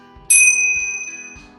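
A bell-ring sound effect, a single bright metallic ding that rings out and decays slowly over a soft background.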